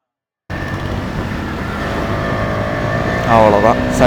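Motorcycle riding fast on an open road while overtaking another bike, a steady loud engine drone and wind roar throughout, with a brief voice near the end.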